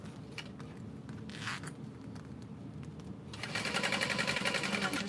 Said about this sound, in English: And then just sew all the way around